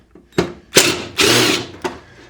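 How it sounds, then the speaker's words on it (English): A power tool backing Torx bolts out of a John Deere, a few short, loud whirring bursts broken by pauses and small clicks, close by with no talking. "We're going to keep pulling Torx bolts out to see what happens."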